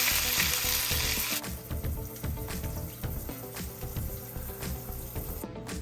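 Salmon fries in a hot pan with a loud hissing burst at first, settling into a steady close sizzle punctuated by light scrapes and clinks.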